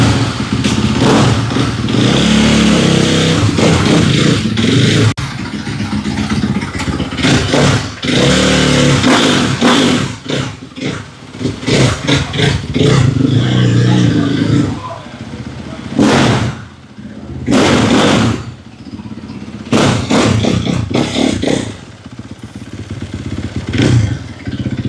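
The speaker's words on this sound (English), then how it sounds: "Give it a couple revs, Joe." A 2025.5 factory GasGas 450 dirt bike engine revs hard in repeated loud bursts, dropping to idle between blips, with clattering and people talking in between.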